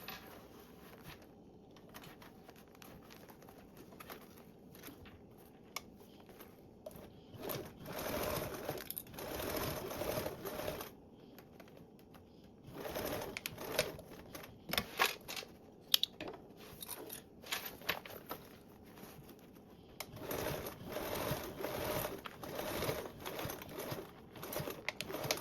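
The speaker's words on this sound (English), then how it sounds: "Now I'll go ahead and baste these on." A sewing machine basting fabric panels together, running in bursts of fast steady stitching separated by short pauses, close and clear.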